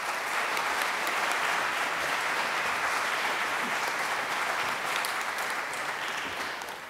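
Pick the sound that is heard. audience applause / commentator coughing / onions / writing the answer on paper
audience applause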